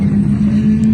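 GT3 race cars in a sportscar endurance racing video game at Ryula Circuit drone by near the pits, giving a brief, steady engine hum of about a second.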